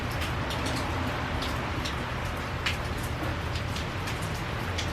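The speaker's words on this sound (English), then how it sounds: "Here comes the rain, you guys. You'll have a nice peaceful rainstorm in the background." Steady rain falls outside as a peaceful rainstorm, a dense continuous patter with scattered brighter drops ticking through, even and unbroken from start to finish.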